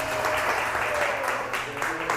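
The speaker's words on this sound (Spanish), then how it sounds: "¿Cuántos le dan un aplauso al Señor?" A church congregation applauds in a steady, dense wash of clapping that stays fairly loud for the whole stretch, with some voices mixed in beneath it.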